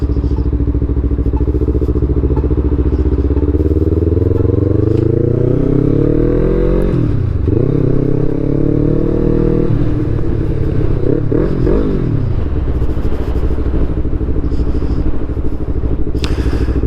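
Yamaha MT-03 motorcycle engine under riding load, revving loudly and continuously through the gears with rising and falling pitch sweeps at each shift, close and dominant with no talk.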